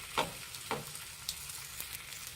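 Village-style ragi rotti cooking on a hot pan, a soft, faint continuous sizzle with a few light taps or scrapes spaced through it, close by with no talking.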